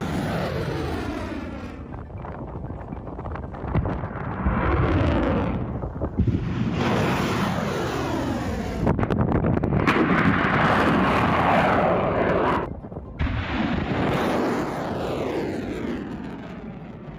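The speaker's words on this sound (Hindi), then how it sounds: "एक लॉन्चर है और एक लॉन्चर से मिसाइलें छोड़ी जा रही है और इस मिसाइल का नाम PRMS है" PrSM missiles launch one after another from a launcher, each a loud roaring whoosh that swells and fades with sweeping pitch, several launches in a row with wind buffeting and no talk.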